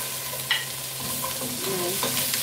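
Fresh turmeric sautéed in a pan for a Valenciana rice dish: a continuous close sizzle with a scrape of stirring and a few light clinks, no talk.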